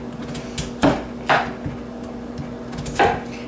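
A knife cuts potatoes into manageable slices on a board, giving a few sharp chopping knocks spaced irregularly over a quiet background with a low steady hum.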